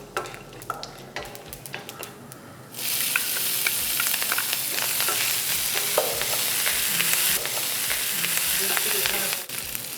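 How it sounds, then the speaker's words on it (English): Mustard seeds in hot oil: quiet scattered pops at first, then a sudden loud, steady sizzle with a dense crackle that continues to near the end. "2 tablespoons of oil. I'm going to add mustard seeds. Once it's crackled, I'm going to add the other ingredients."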